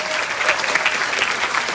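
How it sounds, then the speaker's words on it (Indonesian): Crowd in an auditorium at a political stage event bursts into dense, loud applause, a continuous wash of many hands clapping close and steady for the whole moment with no voices over it. "Tepuk tangan untuk ekonomi."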